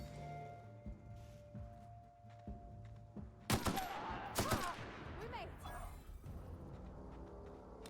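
Gunfire in The Outer Worlds video game crackles in a loud burst of rapid shots, then fades into scattered impacts and debris sounds, with quieter game ambience before and after.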